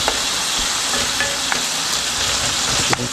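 Veggie egg roll filling frying in a pan, a steady close sizzle with faint crackles and a few soft stirring clicks throughout, no voices.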